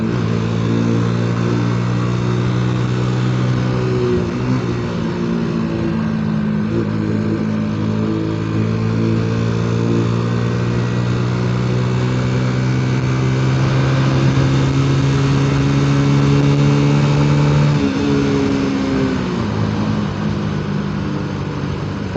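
A carbureted 125cc motorcycle that has been running poorly, its engine revving up in a low gear with a loud, close, buzzing drone that climbs and holds for a long stretch before easing off near the end.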